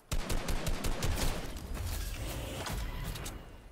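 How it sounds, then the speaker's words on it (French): Rapid gunfire aimed at the player in the video game Fortnite, a dense burst of loud repeated shots over the first second that settles into continuous crackling fire, with no talking. "Qui c'est qui m'a tiré dessus comme ça?"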